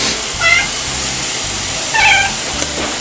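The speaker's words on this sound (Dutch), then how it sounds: "Die loopt weer flink te miauwen, want er ligt eten" A cat meowing for food in a home kitchen, two distinct meows about a second and a half apart, close and clear over a low steady background hum.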